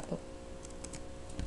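Keyboard keys typed in a short burst of light clicks on a computer keyboard, quiet and close, entering a command.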